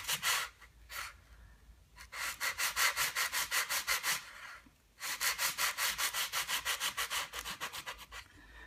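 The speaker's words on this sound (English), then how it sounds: "you hold the sanding paper mostly on this side, well, it doesn't want to roll over" Wood being hand-sanded with a sheet of sandpaper, fast rhythmic back-and-forth scratching strokes in close bursts, with short pauses between the runs of strokes.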